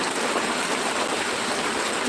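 Heavy rain pours down in a steady, dense, unbroken hiss that stays loud and even throughout.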